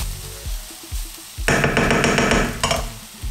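Rhythmic scraping and tapping of a utensil stirring a flour-thickened sauce in a pan, then a louder sizzle with clinks as the stirring continues.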